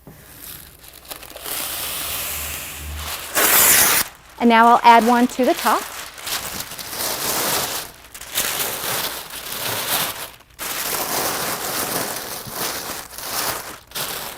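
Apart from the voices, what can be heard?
acid-free tissue paper crinkling, tucked around a quilt in a box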